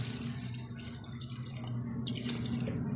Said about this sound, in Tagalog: Ayan, tubigan ko na.